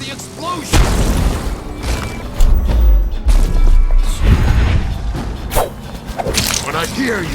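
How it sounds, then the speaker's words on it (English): Repeated heavy booms and crashes from a battle in the video game Dishonored, deep thuds rolling under shouted voices, loud and close. "Away from the explosion!"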